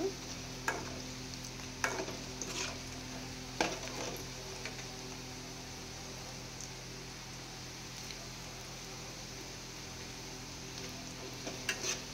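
Paneer vadiyalu fry in a pan with a soft, steady hiss of oil, broken now and then by a few light knocks and scrapes of a stirring utensil, quiet and close.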